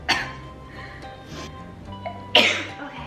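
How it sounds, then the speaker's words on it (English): Two sharp, close sneezes, one at the start and a louder one near the end, over a low humming background. "I got my sneeze out of the way."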